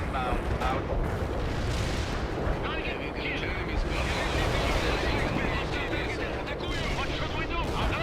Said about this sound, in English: Anti-tank strike is inbound.